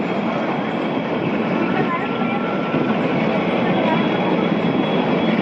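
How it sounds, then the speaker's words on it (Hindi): Kalka–Shimla narrow-gauge toy train rolling slowly at about 10 km/h, a steady close rumble and broadband rattle of the carriage, continuous and even throughout without distinct clacks. "ये ट्रेन जो है अभी 10 किलोमीटर पर आवर्स के स्पीड से चल रही है"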